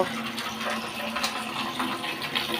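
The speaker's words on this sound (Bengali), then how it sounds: "তুমি জল ছেড়ে দিলে" Tap water pours steadily to refill a fish tank, a continuous close rushing splash with no voices.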